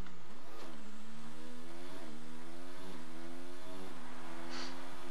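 A Formula 1 car engine in the F1 2019 racing game at the Abu Dhabi Grand Prix screams at high revs, rising in pitch and dropping sharply at each of several quick gear shifts.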